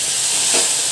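Chopped tomatoes hitting hot mustard-seed oil in a pan, a steady bright sizzle that swells briefly in the middle, close and continuous with no voices.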